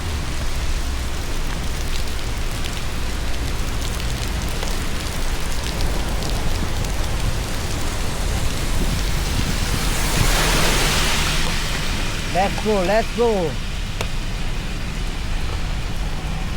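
Heavy rain pours steadily during a thunderstorm in Singapore, a dense continuous hiss that swells briefly midway, and a short passing horn-like sweep sounds near the end while a voice speaks briefly.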